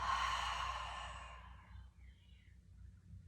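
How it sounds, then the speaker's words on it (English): A long open-mouthed exhale after a deep inhale during a gentle recovery yoga sequence, a close breathy sigh that fades out over a couple of seconds into quiet room tone. "Taking a nice big inhale, reaching your arms up overhead like a big good morning stretch. And an open mouth exhale."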